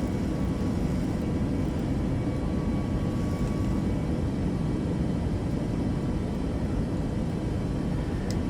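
A Microsoft Flight Simulator 2024 airliner takes off from runway 9, its engines a steady, loud, broadband roar that holds evenly throughout with no talk.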